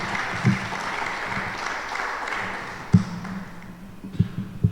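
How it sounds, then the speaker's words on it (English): An audience at a community centre event applauds steadily, with a few sharper taps and knocks standing out near the middle and end as the clapping continues. "Give him a real round of applause."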